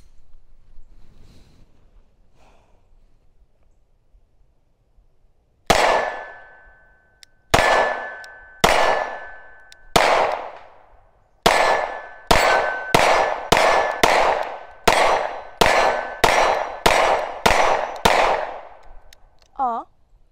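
Gunshots from a handgun fired at a shooting range ring out as a dozen loud, sharp reports with ringing tails. Two shots come spaced apart, then a quicker steady string follows after a quiet start with faint background talk.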